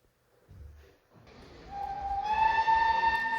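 Stanier Mogul steam locomotive number 2968 approaching Arley station on the Severn Valley Railway, its whistle rising from faint to a sustained steady blast heard from a distance on a quiet winter platform.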